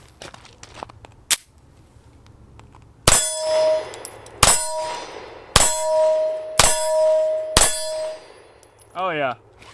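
A Smith and Wesson CSX micro 9mm pistol fires Winchester ammunition at a target seven yards off, giving five sharp, loud shots about a second apart, each followed by a ringing metallic ding, after an earlier single shot.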